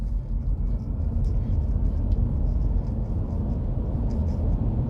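A 2023 MG4 electric car pulls away from a stop in sport mode, giving a steady low road rumble and tire roar with a faint whir on top.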